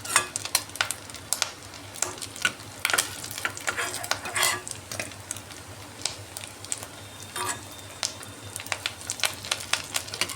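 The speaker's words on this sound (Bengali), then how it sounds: "আবার উল্টে পাল্টে দিচ্ছি সবগুলো এখনও ভাজা হয় নাই এটাতে বারবার উল্টে পাল্টে দিতে হবে" Rohu fish roe frying in a pan, with a steady crackling sizzle and frequent scraping, clattering strokes as the pieces are turned over and over; no talking.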